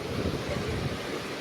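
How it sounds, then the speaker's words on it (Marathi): Strong wind during heavy rain buffets the microphone in a steady, loud rumbling roar throughout, with no voices. "इकडे वारा पण भरपूर आहे."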